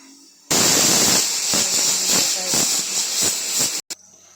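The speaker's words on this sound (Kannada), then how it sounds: "ಈಗ ವಿಸಿಲ್ ಬಂದಿದೆ ಒಂದು" Pressure cooker whistle blowing while broiler chicken pepper dry cooks, a loud sustained hissing shriek that starts abruptly, holds for about three seconds with pulsing surges, then cuts off, leaving a faint background hiss.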